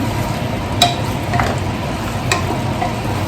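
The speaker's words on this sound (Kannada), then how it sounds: "ಖಾರದ ಪುಡಿ ಹಾಕಿದ್ಮೇಲೆ ಒಂದು 5 ನಿಮಿಷ ಚೆನ್ನಾಗಿ ಫ್ರೈ ಮಾಡ್ಕೊಳ್ಬೇಕು." Chicken coated with chili powder fries for biryani in a pan, giving a steady close sizzle with a few faint scraping stirs.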